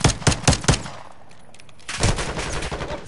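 Bursts of gunfire from a zombie mode in Call of Duty MW2, four sharp shots in quick succession, a short lull, then a longer sustained rattle of rapid fire, loud and close with no voices.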